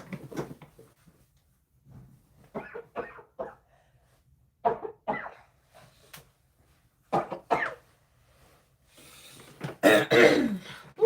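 A woman coughs in several short, separate bursts with pauses between them, ending in a longer, harsher fit of coughing; the sounds are close and come with no talking.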